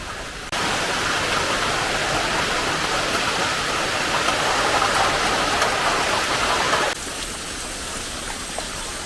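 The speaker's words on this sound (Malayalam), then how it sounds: "ഇതിൽ തന്നെ മഴയാണല്ലോ" Steady, dense rain hisses loudly and evenly, driven by wind, holding at one level before it softens slightly near the end. No one speaks.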